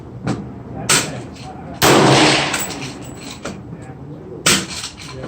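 A 300 Blackout rifle fires Hornady GMX ammunition at a target 75 yards away: one loud, sharp gunshot with a ringing tail, followed by several smaller clanks and knocks, with brief talk nearby.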